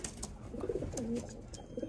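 Soft, low cooing of racing pigeons at a loft in France during a 412 km race repeats a few times against a faint background of rustling and distant noise, with no voices.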